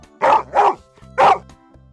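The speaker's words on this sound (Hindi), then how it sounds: "सुल्तान ने जब भालू के आने की आहट सुनी तो भौंकना शुरू कर दिया।" Three loud, close dog barks in quick succession, the first two back to back and the third after a short pause.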